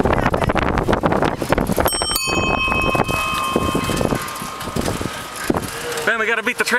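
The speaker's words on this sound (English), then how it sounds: "Ding, ding, ding, a bell." A bell rings out clearly a couple of times, its bright tone ringing on and fading over wind noise and passing traffic rumble.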